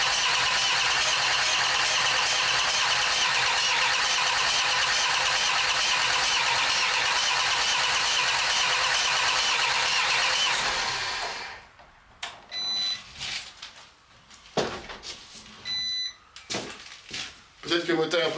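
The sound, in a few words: Peugeot Expert van engine starting after engine swap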